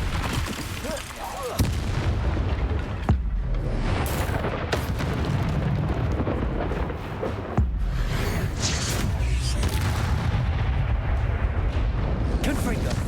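Confringo spell blasts erupt in Hogwarts Legacy as loud, dense booming explosions, several sharp bursts standing out over a continuous roar of magical combat.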